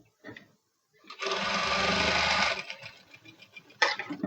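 Sewing machine stitching the shoulder seam of a cut-work blouse, one steady run of about a second and a half preceded by brief handling noises and followed by softer fabric rustling, close and fairly loud.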